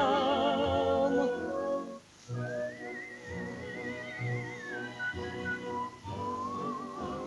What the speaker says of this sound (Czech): svému stínu pískám, písničku tu, kterou jen znám já